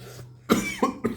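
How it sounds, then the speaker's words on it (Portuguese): Three short coughs, close and fairly loud: one harsher burst followed by two quicker ones, each separated by a brief pause. "essa tosse."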